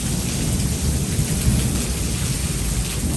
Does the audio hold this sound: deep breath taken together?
no